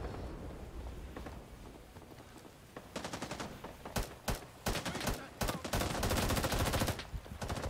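Sustained machine-gun suppressive fire in the Vietnam War shooter game Rising Storm 2: Vietnam, loud rapid bursts that start midway and grow denser, over a rumbling battlefield backdrop with more distant gunfire.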